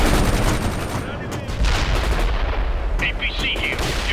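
Heavy gunfire, missile launches and machine-gun bursts from the video game World in Conflict, loud dense explosions and rapid shots layered continuously, with a brief sharper chatter near the end.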